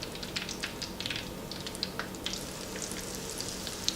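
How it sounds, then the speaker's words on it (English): Hot oil sizzling and crackling steadily in a frying pan, with small sharp pops scattered throughout, fairly quiet and close. "To know if the oil is warm enough, you just try to do this, and if it sizzles"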